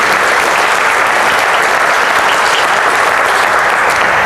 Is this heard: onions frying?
no